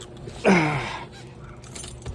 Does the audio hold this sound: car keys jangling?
yes